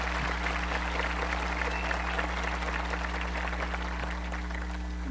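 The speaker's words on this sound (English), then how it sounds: "So let's give them a round of applause" Audience clapping at the Guymon High School 2023 graduation ceremony, sustained, even applause from a large crowd in a hall, with a low electrical hum underneath.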